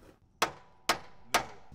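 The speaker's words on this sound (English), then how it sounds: "We're gonna try to hit this thing out with a hammer" A hammer strikes a seized 97-pound roller three times, each a sharp, ringing metallic clang about half a second apart, close and loud and heard alone.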